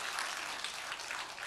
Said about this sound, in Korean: 한 박수 한번 보내겠습니다